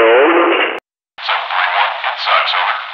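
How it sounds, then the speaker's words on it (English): Voice processed in Audacity with a radio effect, band-limited and distorted like a two-way transmission, speaking in two bursts separated by a short gap of silence. "Congratulations, you made the radio effect in Audacity."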